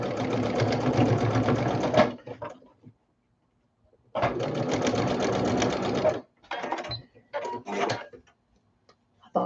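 A sewing machine stitches leftover fabric scraps and batting in close, rapid mechanical bursts: one long run, a pause, another long run, then several short stitches separated by silence.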